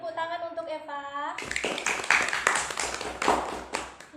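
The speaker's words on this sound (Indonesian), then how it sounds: "beri tepuk tangan untuk Eva" After a voice is heard briefly, a sixth-grade primary school class breaks into clapping for a classmate, a burst of many small hands in an indoor classroom lasting a few seconds.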